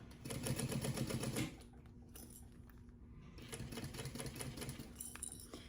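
A sewing machine topstitches a crossbody bag at a long stitch length, running in a loud steady burst at first, then pausing and resuming more quietly with a faint clatter.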